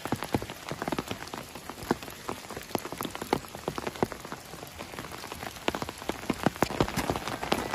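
Rain patters on a surface in sharp, close drips and splashes over a steady wet hiss, loud and irregular throughout, with no voices.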